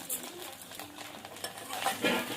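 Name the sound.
stirring cauliflower dish in a pan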